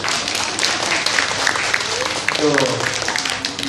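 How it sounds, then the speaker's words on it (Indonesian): A community gathering applauds the mothers, with steady crowd clapping throughout and voices mixed in underneath. "coba tepuk tangan untuk ibu-ibu"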